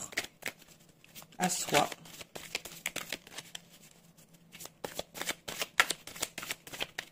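Tarot cards being shuffled in bursts of quick papery riffles and flicks, close and fairly quiet, while someone speaks over them in French.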